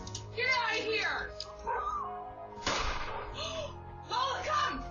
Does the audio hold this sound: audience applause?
no